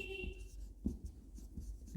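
Pen scratching on paper while drawing and shading a small part of a pituitary gland diagram, soft close strokes with brief scrapes over a low hum.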